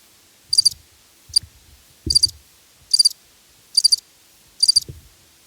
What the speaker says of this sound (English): the crickets are calling